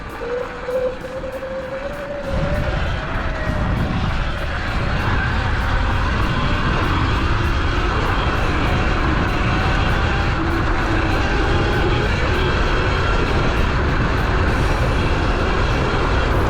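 ERide Pro electric dirt bike ridden at speed, a steady loud roar of wind and drivetrain whine that builds after a quieter start and holds continuously close by.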